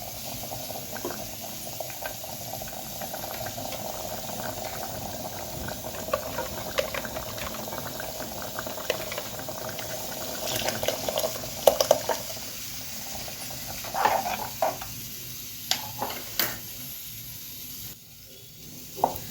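A pot of buttermilk stew bubbles and simmers quietly, soft gurgling with occasional small pops and splutters, close by and without voices.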